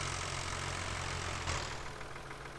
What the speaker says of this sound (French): je vais avoir un tracteur qui va arriver